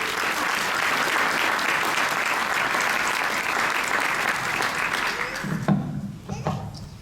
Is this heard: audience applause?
yes